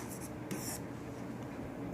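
Chalk or marker writing on a board during a Class 9 maths lesson on triangles, with short scratchy strokes in brief bursts over a steady room hum and no talking.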